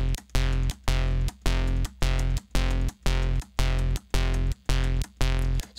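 A Serum synth sub-bass plays nine short repeated notes in an even rhythm, each a loud, thick, distorted tone cut by brief gaps as the oscillator phase setting changes.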